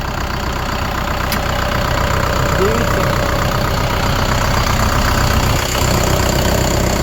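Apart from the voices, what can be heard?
tractor engine idling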